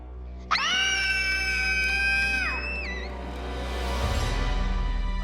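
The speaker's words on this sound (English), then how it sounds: "Scream really loud." Several voices scream loudly together at a school crawling with police and Secret Service, a sustained high shriek that cuts off partway, followed by a lower crowd-like rumble.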